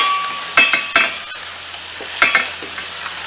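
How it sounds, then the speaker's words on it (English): A spoon stirs zucchini, pork and macaroni in a frying pan over a steady sizzle, with a few close scraping knocks against the pan and no talk. "And then give it a stir."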